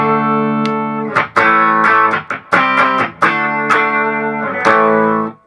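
A Fender Richie Kotzen Telecaster electric guitar played through its bridge humbucker, with a thick, effects-laden tone. It rings out as a series of loud, sustained chords and single strums, with short gaps between them and no talking.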